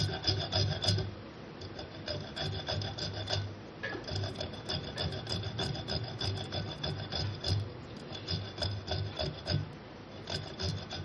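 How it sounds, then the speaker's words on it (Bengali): Green chillies are rubbed on a hand grater in repeated rasping strokes, close and clear, a steady scraping rhythm with no talk. "এভাবে 3টে লঙ্কাকেই আমি ঘষে দেবো"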